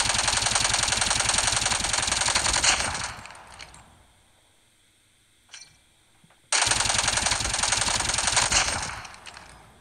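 Rapid automatic gunfire in the mobile shooter Call of Duty Mobile, a loud sustained burst that stops for a few quiet seconds with a faint click, then another long loud burst.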